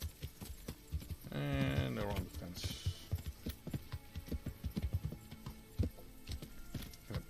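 A horse's hooves clip-clop steadily on the ground in the game Kingdom Come: Deliverance, with a whinny near the start, while a player talks over the steps.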